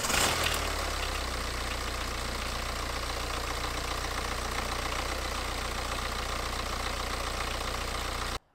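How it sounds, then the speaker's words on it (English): A BMW 318d with the N47 diesel engine idles with a rattly timing chain, a steady, dense mechanical clatter and knocking drone held close and constant for several seconds before cutting off abruptly. "It's been steadily getting a little rattly at the back there."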